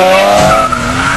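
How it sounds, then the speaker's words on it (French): Two cars race in a street, tires squealing loudly in a sustained skid over a strained engine note, close and intense for about a second. "ces deux voitures, elles vont faire la course, tester les moteurs pour le plaisir"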